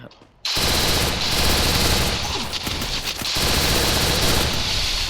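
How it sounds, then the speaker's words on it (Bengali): Dense, loud video game gunfire, including sniper rifle shots, erupts after a brief quiet start and keeps up a continuous crackling barrage of shots over a noisy battlefield. "এখন স্নাইপার মারে স্নাইপার ছুটাইতেছে"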